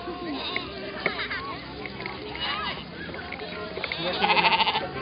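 Sheep bleat on a farm, several short wavering cries rising near the end, mixed with lively voices of people and children talking close by.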